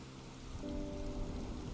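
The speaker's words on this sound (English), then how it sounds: "been raining a lot in the game" In Final Fantasy XIV, a short stretch of steady rain makes an even hiss under gentle background game music, with no one speaking.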